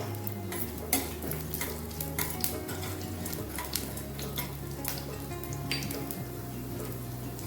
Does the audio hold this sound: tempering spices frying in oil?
yes